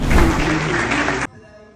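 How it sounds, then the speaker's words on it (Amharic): An audience at a foundation fundraising event applauds, a loud, dense burst of clapping that cuts off abruptly after about a second, leaving a quiet room. "ለረዴት አንድ ጊዜ አጨብጭቡላችሁ"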